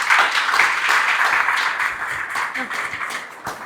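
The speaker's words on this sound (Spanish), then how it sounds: "we can do an applause for Isabel, please." Audience applause for a woman named Isabel at a faith gathering, steady clapping that fades gradually over a few seconds, with some voices mixed in.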